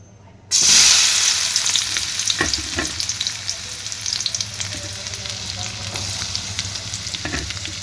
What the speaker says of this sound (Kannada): ಇಲ್ಲಿ ಎಣ್ಣೆ ಕಾಯಕ್ಕೆ ಇಟ್ಟಿನಿ ರೀ ಫಸ್ಟ್ ಉಳ್ಳಾಗಡ್ಡಿನ ಹಾಕಿಬಿಡನ್ರಿ